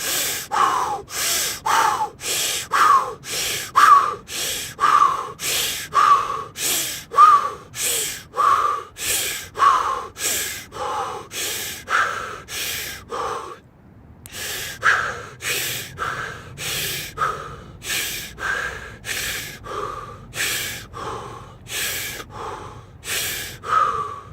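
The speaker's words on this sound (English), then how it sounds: "And deep inhales, deep exhales." A person breathes deeply in a steady rhythm of sharp inhales and exhales, about twenty cycles, close and loud, with one short pause partway through.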